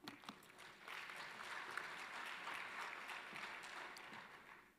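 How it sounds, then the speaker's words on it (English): An audience applauds Dr. Smelane at a basic education sector lekgotla, a faint, steady wash of clapping from a hall that holds at one level for several seconds, with no speech over it. "Another big round of applause for Dr. Smelane."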